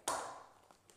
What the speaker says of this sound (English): So again, scissors or a knife, just cut open the bag,